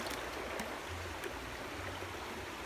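River water swirls and trickles in a steady, soft wash as gold is panned down at a sluicing site in the Dominican Republic, continuous and close with no voices.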